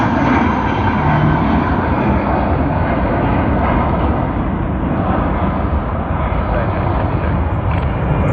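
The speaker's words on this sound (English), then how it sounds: "you will hear this exact very sound of an A320" A Jetstar Airbus A320 departs Sydney Airport, its engines producing a continuous heavy roar that stays loud and steady for over eight seconds.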